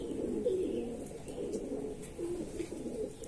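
Andhra Madrasi pigeons cooing close by, a soft run of low, throaty coos that repeat over faint background noise.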